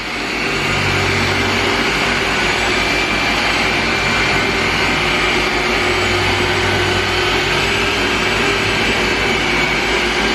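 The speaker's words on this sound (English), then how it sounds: "He's going right into the finishing polish. Rotary speed 1. Black finishing pad." Rotary polisher running at speed 1 with a black finishing pad, applying finishing polish to a vehicle's paint: a steady, loud, continuous motor whine and hum that holds throughout with no talk.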